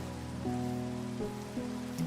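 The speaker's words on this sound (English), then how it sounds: "There's the rain." Rain falls in the video game Minecraft, a soft continuous hiss layered under sustained tonal game music with shifting notes, moderately quiet and without talk.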